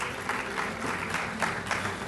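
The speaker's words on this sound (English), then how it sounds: "A round of applause." An audience claps at a university athletic hall of fame ceremony in a hall, a steady patter of applause with rhythmic pulses, moderate in level and without speech.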